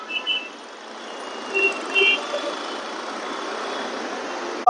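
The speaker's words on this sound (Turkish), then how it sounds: "bakın size Mumbai'nin trafiğini göstereceğim." Busy Mumbai street traffic with a steady wash of engine noise, a few short beeps and horn-like tones rising briefly near the start and middle, and faint background voices mixed into the constant roar.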